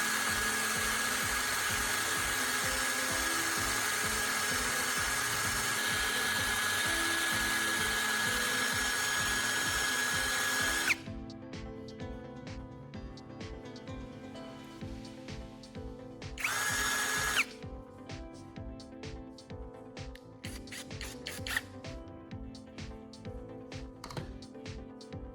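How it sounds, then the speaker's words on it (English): Power drill spinning a carbon rod against sandpaper to sharpen its tip, with a loud steady whine at first, then stopping and starting in shorter bursts among clicks and handling noise, and no talk. "The drill will act as a rotary tool, allowing me to precisely shape and sharpen the tip of the carbon rod with sandpaper."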